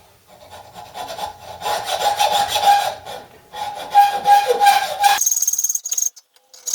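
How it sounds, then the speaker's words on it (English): A hacksaw cuts through a steering rack rod on a T3/T25 van, rapid back-and-forth rasping strokes, loud and close, continuing steadily for several seconds before stopping with a brief bright metallic scrape. "So I'm just going to old school it, cut it off with an axe saw"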